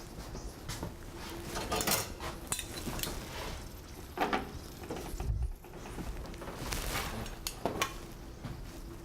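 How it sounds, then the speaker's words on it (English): Knife cutting marinated pork for succotash, heard as scattered chops and clinks of blade and pans on a board, moderately close with kitchen clatter in between. "we're going to cut the pork"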